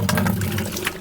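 Water draining from a tankless hot water heater into a bucket makes a steady, close splashing flow that runs without a break for about a second, with a low hum underneath.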